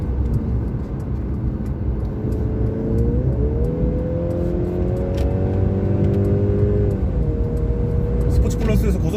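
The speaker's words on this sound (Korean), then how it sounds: "스포츠 플러스에서 고속주행 이런 느낌입니다" A Mercedes C300 AMG Line running at high speed in Sport Plus mode, its engine tone rising through the gears with smooth shifts over a steady wind and road rumble, heard from inside the cabin.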